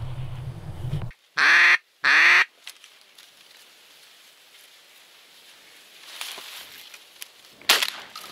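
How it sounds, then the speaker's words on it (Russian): Ducks on a small spring puddle during a hunt give two loud, close quacks in quick succession, followed by quieter rustling and a few faint distant calls outdoors. "Лужица, утки плавают, сейчас придется их поднять"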